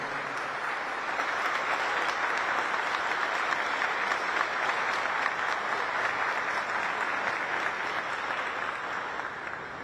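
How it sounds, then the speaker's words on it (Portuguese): A steady round of audience applause in a hall for an honoree at a solemn medal session, dense and even clapping that holds for about ten seconds without pause. "eu gostaria de uma salva de palmas ao nosso homenageado"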